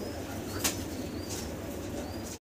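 A pair of large black Shaking pigeons coo softly and briefly flap their wings up close, with a low steady murmur of cooing and a short burst of wingbeats.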